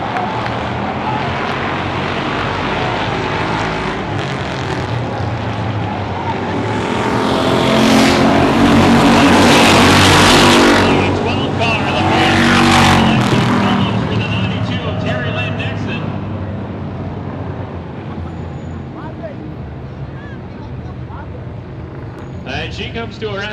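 Stock cars roar off a restart at Barrie Speedway, the engine noise swelling loud as the pack passes close, then fading, while a commentator talks over the race.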